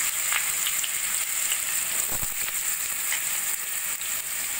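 Pumpkin, papaya, drumsticks and tomato fry in hot oil in a wok after a tempering of cumin, fenugreek, mustard and dried chili, giving a steady loud sizzle with a few faint stirring clicks.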